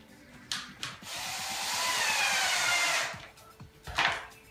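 A screw is driven tight into the wooden leg of a rustic night stand, a steady whirring drive of about two seconds, bracketed by short bursts of tool noise before and after.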